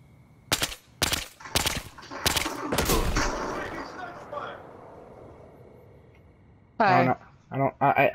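Gunfire in the Battlefield Hardline video game, a quick series of sharp loud shots in the first few seconds fading into a trailing decay, followed by a few brief bursts near the end.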